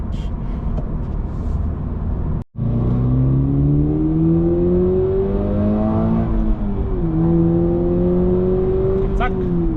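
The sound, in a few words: Toyota GR86 naturally aspirated engine accelerating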